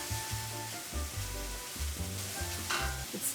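Frozen minced garlic sizzles in a hot pan while being stirred. A steady frying hiss runs under repeated low scraping strokes of a utensil against the pan, close and fairly quiet.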